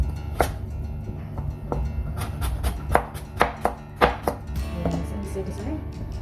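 Carrots being chopped with a knife for fried rice made from leftover rice: a run of sharp, irregular blade strikes against a board, close and fairly loud, with short pauses between quick clusters.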